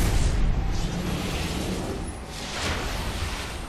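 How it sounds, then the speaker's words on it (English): Grenade explosion in the video game Destiny, heard as a dense, roaring burst of broadband noise that holds steady for several seconds and then slowly swells, loud and close, with no talking. "Oh, grenade."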